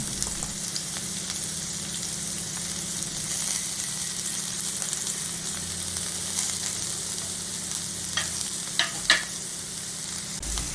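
Onion, curry leaves and green chillies fry in hot coconut oil for tomato rice, making a close, continuous sizzle, with a few light scrapes of stirring toward the end.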